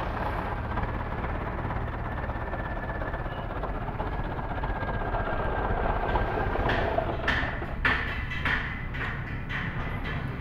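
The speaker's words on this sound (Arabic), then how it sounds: "شغال على جرار روسي" A Belarus 1025 tractor pulling a plough, its engine running as a steady low rumble throughout, with several sharp clanking knocks toward the end.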